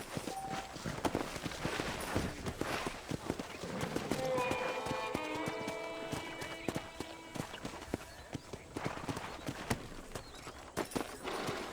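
Horse hooves clip-clopping at a walking pace while riding in the video game Red Dead Redemption, a steady close rhythm of hoof strikes running throughout, with a brief whinny-like tone and people talking over it.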